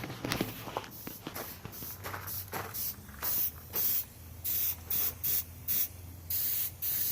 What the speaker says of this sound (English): Holding my airbrush, I'm misting down into the pattern.